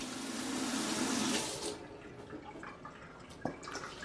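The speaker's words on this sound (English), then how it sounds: "Rinse it off a second. Quick, 3-second rinse off." A tap runs loudly for a quick rinse for about a second and a half, then shuts off, leaving faint drips and small knocks in a quieter room.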